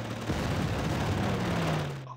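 A bombing run on artillery in the Operation Sea Lion video game erupts as a dense, rumbling barrage of rapid blasts lasting about two seconds before cutting off abruptly.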